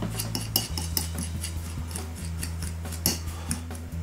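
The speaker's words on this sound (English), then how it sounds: "we're going to place our breadcrumbs and our parmesan cheese. And just give it a good mix until everything's combined" Breadcrumbs and parmesan cheese are mixed in a bowl, giving soft scraping and tapping of a utensil against the bowl in an uneven rhythm, close and fairly quiet over background music.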